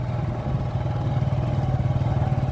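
A motorcycle rides along a mountain road, its mid-pitched engine droning steadily and close with a throbbing pulse throughout, no talk over it.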